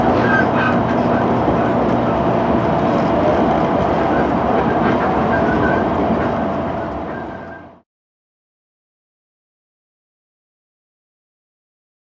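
An express train roars through a small station at full speed, loud and rushing with rhythmic clatter, then cuts off abruptly into silence.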